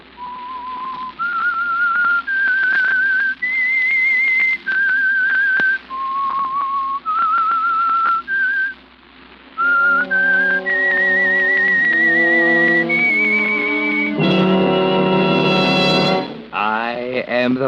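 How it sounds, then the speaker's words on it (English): A lone human whistler carries the slow, eerie signature melody of The Whistler radio program, one sustained note after another with short pauses. An orchestral chord swells in near the end. "That whistle is your signal for the Signal Oil Program,"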